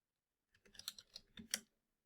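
A short burst of soft key clicks, about eight quick taps within a second, as a password is entered on a computer keyboard in an otherwise silent room.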